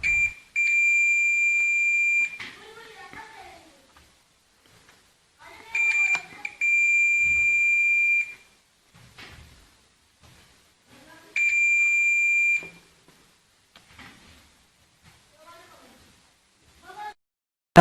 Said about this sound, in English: now let's check the continuity of this copper wire. So there is a sound